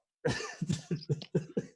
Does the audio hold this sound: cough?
yes